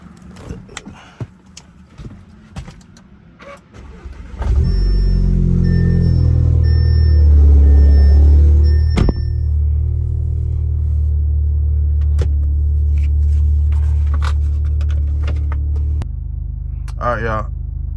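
A Cadillac CTS fitted with a turbo inlet cranks and fires up, then settles into a deep, steady, rumbling idle that runs close by for over ten seconds, with someone talking before the start.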